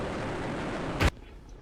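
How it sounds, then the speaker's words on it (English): A small, puny explosion in the video game Neo Warfare X, a single short loud burst near the end of a steady rumbling game soundscape, followed by quieter ambience. "And there's that little puny explosion."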